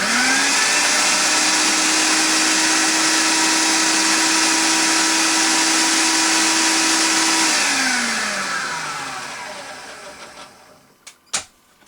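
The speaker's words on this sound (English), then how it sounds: "Okay, put the lid back on, continue blending." A blender whirs steadily as it breaks up bread for carp fishing bait, a loud constant motor whine that winds down near the end, followed by a few clunks.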